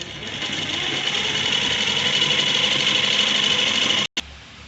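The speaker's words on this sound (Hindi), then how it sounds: "फिर ऊपर से उसी सिलाई पे सिलाई चलाएंगे कि सिलाई डबल हो जाएगा मजबूती के लिए" A sewing machine stitches a kurta collar seam, running a steady continuous whir for about four seconds before stopping abruptly, then a brief quiet tail.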